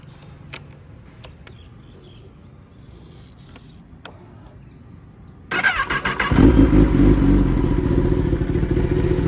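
Quiet background with a few faint clicks, then a 2019 Kawasaki ZX-10R KRT sport motorcycle engine cranks and starts, settling into a loud, steady, close idle.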